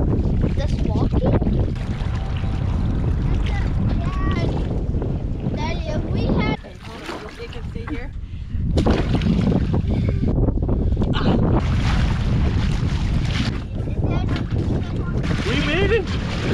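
A motorboat's engine drones steadily with wind buffeting the microphone and water noise, briefly dipping quieter midway before resuming its constant roar.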